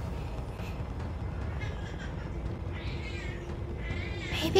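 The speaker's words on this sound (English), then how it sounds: "Baby cat!" A cat meows a few times in the video game Resident Evil Village, faint and drawn-out over a low steady background hum, with a louder burst at the end.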